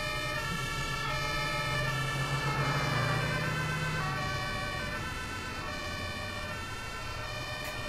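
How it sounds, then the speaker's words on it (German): Ambulance siren in the Omsi 2 bus-driving simulator, a loud steady wailing tone with a rumbling vehicle engine beneath. "da ist ein Krankenwagen"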